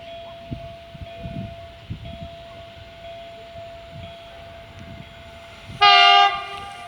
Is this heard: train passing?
yes